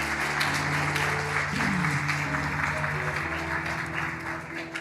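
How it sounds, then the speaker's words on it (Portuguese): A church congregation claps during a celebration service, a steady ripple of applause running under sustained organ or keyboard chords, moderately quiet and continuous throughout. "Se você quer dar uma salva de palmas para Jesus,"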